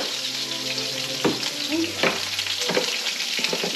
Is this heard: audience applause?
no